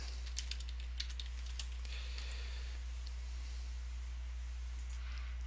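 Fast, light typing on a computer keyboard, a burst of crisp key clicks in the first two seconds followed by scattered taps, over a steady low electrical hum.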